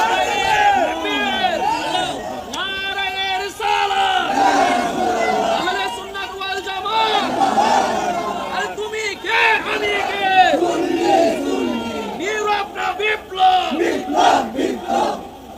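A crowd at a religious sermon raises hands and chants slogans in loud unison, repeated waves of massed voices rising and falling, with a lead voice calling out between the shouted responses.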